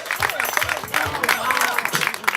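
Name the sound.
crowd applauding for Amina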